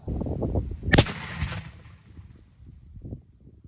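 A small explosive taped around a glove goes off with one sharp, loud bang, followed by a brief rumbling echo that fades over the next few seconds amid faint background noise.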